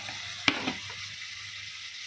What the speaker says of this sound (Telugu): పచ్చివాసన పోయిన తర్వాత టమాటాలు కూడా వేసుకుని వేయించుకుందాం